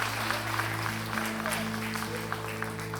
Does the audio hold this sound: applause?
yes